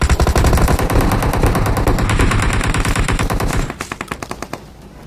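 M4 assault rifle fired in the PUBG video game, a loud, rapid automatic burst of close gunshots that slows into a few spaced single shots near the end.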